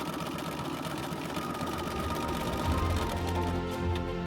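A sewing machine stitching a dress hums with a continuous, steady mechanical whir at moderate volume, running without pause or voices.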